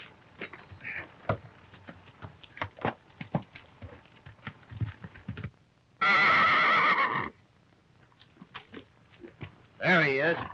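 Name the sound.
horse neighing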